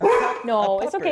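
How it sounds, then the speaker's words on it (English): A dog barks in a few quick, close yips and woofs indoors, overlapping with a person speaking softly. "And there's a dog barking in there."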